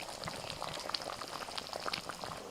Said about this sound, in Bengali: মশলা ফুটে গেছে লেজা মুড়ো দিয়ে দিয়েছি